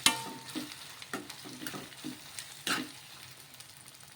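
A rice and egg mixture sizzling in a hot pan while being stirred, with a soft continuous fry hiss broken by repeated scraping strokes of the spoon.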